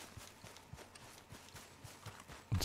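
Soft, regular clip-clop of horse hooves at a walking pace in Red Dead Redemption 2, faint and evenly spaced, ending with a sudden louder noise.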